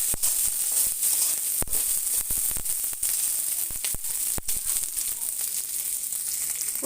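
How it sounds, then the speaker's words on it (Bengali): Onion and garlic frying in oil, heard as a steady close hiss and sizzle punctuated by sharp spatter pops and occasional stirring scrapes, with no voices. "এখন এইখানে দিয়ে দিচ্ছি পেঁয়াজ আর রসুন। এগুলো আমি খুব সুন্দর করে ভেজে রাখবো।"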